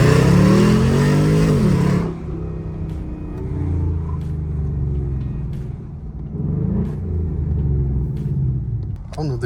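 A Ford Mustang GT V8 with a valved exhaust launches from about 1500 rpm, a loud deep rumble surging for the first two seconds before settling into a steadier, quieter drone as it pulls away, with occasional voices over it.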